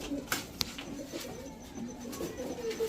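A breeding pair of Giribaz high-flyer pigeons coo softly, with a few sharp clicks and taps, against a low, quiet background with no talking.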